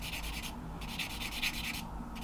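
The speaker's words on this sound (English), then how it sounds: "if I just keep sanding at this" Steady back-and-forth rubbing of a fine-grit sanding sponge on a 1/48 scale model Grumman Hellcat kit part, a few rhythmic strokes with brief pauses, close by and fairly quiet.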